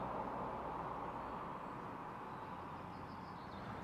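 Steady traffic roar from a main road beside Canaston Wood in Pembrokeshire, a continuous broadband rumble that holds even and fairly loud for the whole stretch with no passing vehicle standing out.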